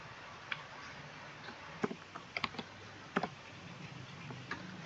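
Typing on a computer keyboard: a faint, uneven series of soft clicks, some in quick clusters and others spaced out, against a quiet room hum with no talking.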